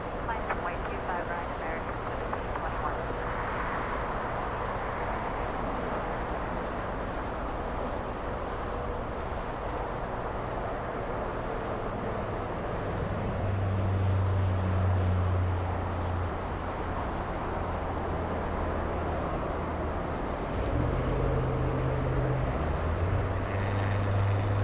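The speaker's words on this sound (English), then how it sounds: "KLM 601 flying in from Amsterdam." A KLM airliner arrives at Los Angeles International Airport from Amsterdam, its distant jet rumble droning steadily beneath ongoing talk, with a low engine swell late on.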